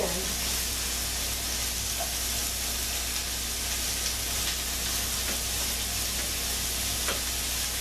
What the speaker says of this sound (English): So I'm going to cut up my mushrooms, and I'm going to throw them in the pan.